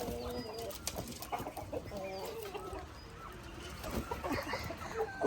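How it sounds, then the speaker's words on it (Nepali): Several chickens, including a rooster, cluck and mutter in a quiet backyard, with short irregular calls overlapping at close to middle distance and faint background noise. "कुखुरा पनि थरी थरी छ।"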